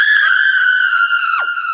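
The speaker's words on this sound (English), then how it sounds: "A piercing scream filled the house." A piercing scream sound effect in a suspense story, a loud, sustained high-pitched cry that holds steady and then drops sharply near the end, heard alone.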